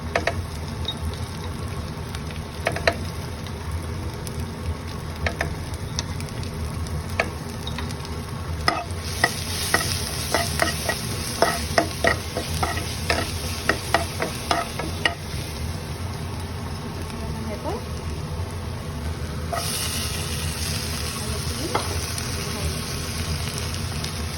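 Onions sizzling and frying with a little garlic in a home kitchen pan, a steady crackling hiss with scattered stirring clicks and scrapes throughout, no talking over it.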